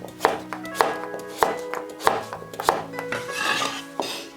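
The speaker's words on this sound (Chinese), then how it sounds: "把土豆对半切开，" Potato halves chopped into small pieces on a cutting board with a kitchen knife: firm, evenly spaced knife strikes land about twice a second, close and clear, with no talk.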